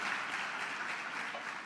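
A church congregation applauding during a sermon, a steady, fairly faint wash of clapping that holds evenly throughout.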